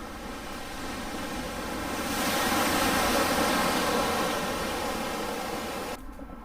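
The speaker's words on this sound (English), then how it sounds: "Oh yeah, the tide's coming in now and the waves are getting big." Ocean waves roll in as the tide rises near an anchorage by Panama's old city, a broad hissing wash that swells louder in the middle and then eases, with wind noise across the microphone.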